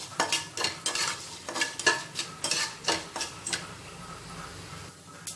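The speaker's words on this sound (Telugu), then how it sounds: "అలాగే ధనియాలు మెంతులు వేసుకొని వీటిని కొద్దిసేపు ఫ్రై చేసుకోవాలండి" Coriander seeds, fenugreek, cumin and urad dal dry-fry in a pan, with a rhythmic run of close, crisp scraping stirs and rattling seeds that slows and fades toward the end.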